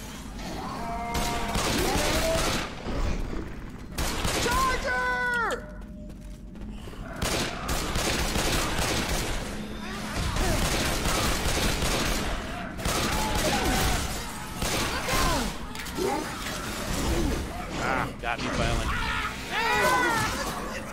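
Sustained gunfire from the zombie shooter game Left 4 Dead 2, with repeated loud bursts and shots running almost the whole time. Players talk over it, with other game effects mixed in.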